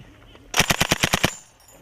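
A military vehicle's machine gun rattles out a burst of about eight rapid, evenly spaced shots, loud and close, with quiet outdoor ambience before and after.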